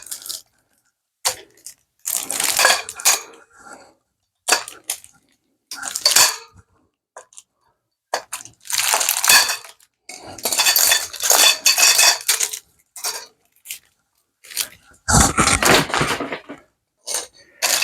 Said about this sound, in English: So I've come in here with the cutters and try to cut them loose here.